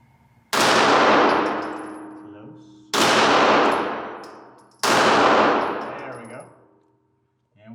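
Three loud handgun shots ring out at a small orange target, each a sharp crack followed by a long, fading metallic ring, spaced about two seconds apart at close range.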